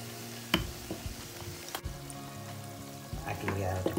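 Tortas sizzle and crackle in hot oil in a frying pan, with irregular pops, spatters and a few utensil clicks against a steady frying hiss.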